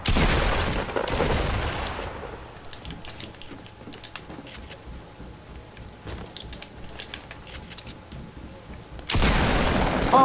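In a video game, a house is blown apart by explosions: a loud burst of blasts and crumbling debris opens, then scattered cracks and patter continue before another loud blast near the end.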